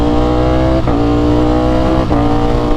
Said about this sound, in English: See how smooth, how smooth the kick shifter.